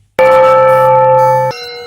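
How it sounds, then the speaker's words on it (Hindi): A single loud temple bell strike rings out with a sharp metallic onset and a sustained, bright resonant hum, then is abruptly damped after about a second and a half, leaving a quieter ringing tail. "मंदिर की घंटी की आवाज पूरे गांव में गूंज रही थी।"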